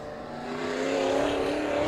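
IMCA modified race car on the dirt oval at Perris Auto Speedway, its engine droning steadily and building slightly in loudness, a continuous nearby roar without talk.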